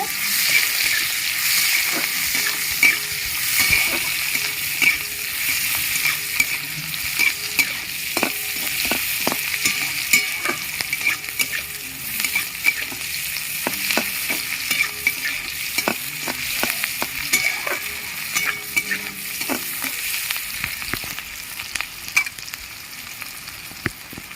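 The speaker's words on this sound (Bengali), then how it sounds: "শুকনো লঙ্কা কুচিয়ে রাখা পেঁয়াজ পেঁয়াজটা একটু লাল করে ভেজে নেব" Onion frying in hot oil with dried chilli and cumin seeds makes a loud continuous sizzle, broken throughout by frequent scraping stirs and sharp clicks of a spatula against the pan.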